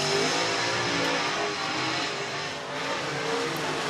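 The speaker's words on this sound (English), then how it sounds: "Dennis Erb Jr., former national champion, rolling out in car number 28." A dirt late model race car, number 28, rolls out at Needmore Speedway in Norman Park, Georgia, its engine a loud, continuous roar that dips slightly and then swells again.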